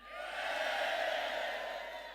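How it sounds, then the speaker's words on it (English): An audience at the Super League Awards night cheers and whoops together in a single sustained roar that swells and then fades over a couple of seconds. "Give us a cheer at the back."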